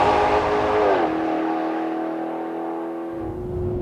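A 2013 Maserati GranTurismo engine revs hard, its pitch climbing, then dropping at a gear change and climbing again, a loud, close, sustained roar.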